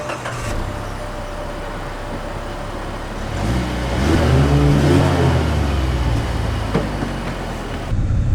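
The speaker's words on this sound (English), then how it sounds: "we are setting off in the 2019 Mazda 6" A 2019 Mazda 6 Grand Touring Reserve sets off driving, its engine note rising steadily through acceleration, with a harmonic sweep building midway before easing, heard from inside the car with no talking.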